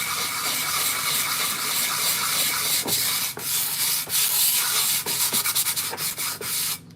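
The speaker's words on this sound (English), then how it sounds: "So we got a sanding block." A sanding block rubbed back and forth across the surface of an art piece in a studio, with steady close scraping strokes that run continuously and break into shorter, choppier passes toward the end.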